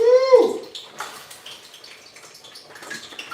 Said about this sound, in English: Let me get some more water in my risotto.